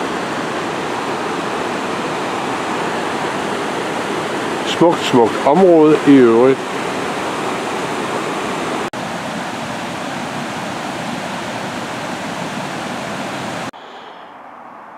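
Waterfall beside an old sawmill with a large wooden water wheel fed by a millrace at a campsite in Norway, a steady full roar of rushing water throughout, briefly overlaid by a voice speaking, then cutting off near the end.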